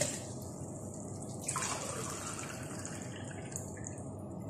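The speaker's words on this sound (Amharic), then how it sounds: "ሁለት ብርጭቆ ማለት ነው ውሃ ጨምርና" Clean water streams steadily into a container of powder before blending, a continuous close splashing pour that settles into a running trickle.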